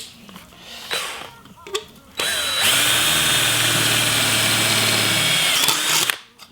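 Electric drill boring holes through a tabletop, a steady loud whine running about four seconds after some brief handling noise and a short burst, then cutting off abruptly.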